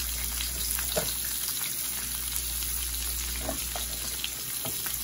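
Chicken pieces frying skin side down in hot grease in a pan, with a steady, dense crackling sizzle and scattered pops throughout; no talk.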